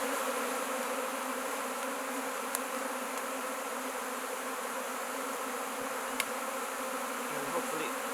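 A wild honey bee swarm in Hawaii buzzes steadily and densely up close as it is carried toward a beehive, a constant droning hum with a couple of faint clicks.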